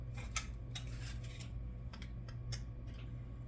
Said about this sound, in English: go ahead and cut this part of the sprue off.